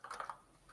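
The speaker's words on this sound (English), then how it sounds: "Do you see me typing" A few quick, soft keystrokes tap out on a computer keyboard in a short burst of three or four clicks, then fade into quiet room tone.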